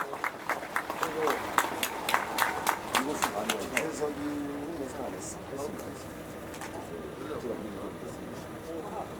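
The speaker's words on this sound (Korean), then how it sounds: "뜨거운 박수 부탁드리겠습니다" A crowd at a Democratic Party campaign rally for a Jeju City candidate claps in a brisk, rhythmic beat for a few seconds. The clapping then trails off under a voice speaking over the crowd.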